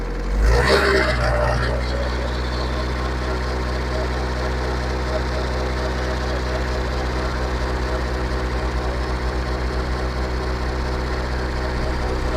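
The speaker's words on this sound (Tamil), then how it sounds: "லைட்டாக ரேஸ் கொடு, லைட்டாக கொடு, ரேஸ் கொடு" A Tata Sumo Grande's engine runs close by with a deep, steady throbbing rumble after a brief louder burst at the start, holding an even pace for the rest.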